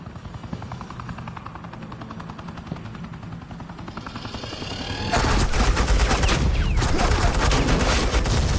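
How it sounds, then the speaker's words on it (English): Suppressing gunfire in the video game Batman: The Enemy Within: a helicopter drones steadily, then dense, loud automatic fire bursts in and rattles on continuously over the rotor noise. "suppressing fire."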